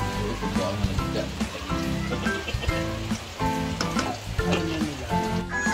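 Dense, crackling sizzle of tilapia frying in hot oil, loud and close, with rapid popping spatters throughout.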